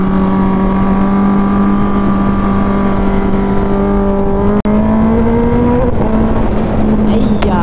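A Kawasaki ZX-10R sportbike rides along with a loud, steady engine drone whose pitch slowly rises, a continuous close-up roar filling the whole stretch with a brief sharp click partway through.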